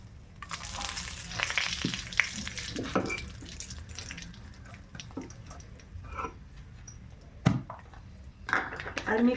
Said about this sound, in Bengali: ছোট এলাচ, লং, দারুচিনি দিলাম